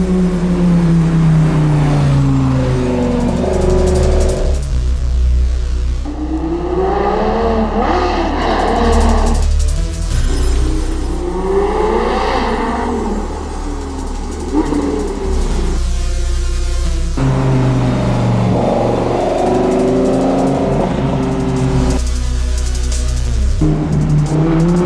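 A supercharged Lamborghini Gallardo engine, built to about 770 horsepower, revs hard on a dyno, rising and falling through repeated loud pulls with brief lifts between them, close and powerful.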